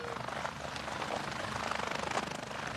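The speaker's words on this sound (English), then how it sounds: "he was met by a University Air Care helicopter" A University Air Care medical helicopter flies over an open field, its rotor a steady, moderately distant pulsing drone with engine whine throughout, no talking.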